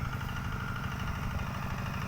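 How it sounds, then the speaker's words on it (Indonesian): A walking tractor's engine runs steadily and fairly loudly while shaping raised garden beds on about a hectare of farmland, a continuous mid-to-low rumble with a fine vibrating texture and no pauses. "menggunakan traktor pick"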